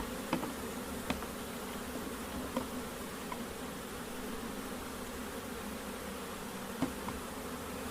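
Honeybees buzzing steadily around an open long hive, a dense continuous hum with a few individual bees droning close past, no talking.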